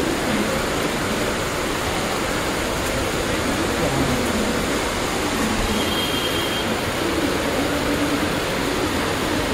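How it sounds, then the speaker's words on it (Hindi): Heavy rain pours on a flooded street in Kamathipura, Mumbai, near a station, making a loud, dense, unbroken roar throughout with no voices. "बारिश काफ़ी तेज होती जा रही है"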